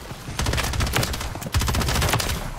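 Rapid bursts of gunfire from Call of Duty: Modern Warfare 3, loud and close, firing steadily through the whole stretch with a brief break midway before a second sustained burst.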